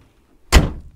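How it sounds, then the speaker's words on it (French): A single solid thunk of a Volkswagen Tiguan R-Line eHybrid car door slamming shut, close and loud, after a brief quiet moment, with a short dull decay. "quand on claque la porte, vous voyez, ça sonne plein et sourd"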